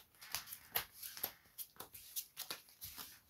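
Yu-Gi-Oh trading cards pile-shuffled during a duel, giving a quiet, close series of crisp slaps and riffles at an uneven rhythm, about a dozen soft card hits with no talk.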